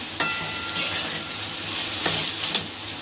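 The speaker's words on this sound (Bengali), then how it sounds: "ভালো করে একটু ভাজা করে নেব সয়াবিনটা।" Soya chunks fry in oil in a pan with a steady, close hiss, broken by a few sharp scrapes and taps of a spatula as they are stirred, no voices.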